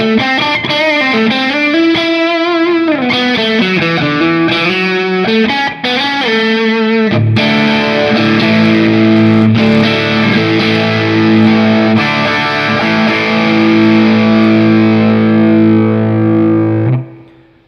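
Electric guitar played through a Big Joe Empire Dual Overdrive pedal, first a run of bent distorted single notes, then sustained overdriven chords ringing out loud and close until they cut off.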